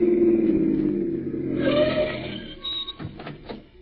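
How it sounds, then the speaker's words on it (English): A car pulls up and halts in a 1947 radio drama, its engine droning low then easing off, followed by rattling clatter and small mechanical knocks as it comes to rest, with no talking over it. "Listen, here comes another car."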